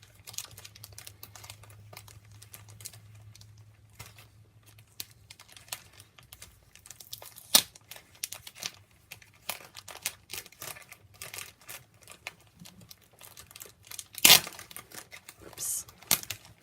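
Origami paper from an order is carefully unpacked, giving scattered soft crinkles and rustles with a few sharper crackles over about sixteen seconds, alongside a low background hum.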